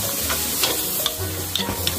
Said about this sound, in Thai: ก็รวนให้สุกแค่นั้นเอง